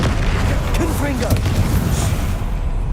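Fiery Confringo spell blast in Hogwarts Legacy, a loud booming burst with rumbling low-end that fills the whole moment, a voice faintly audible over the explosion noise.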